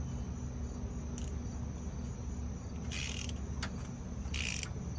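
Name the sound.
wrench loosening a bolt on Honda Insight AC compressor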